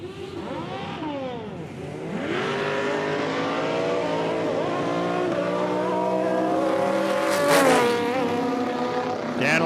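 A Vega drag racing car launching down the dragway, its engine screaming loudly and climbing through the gears with sharp harmonic sweeps, a brief shift break near the end, heard fairly close and alone.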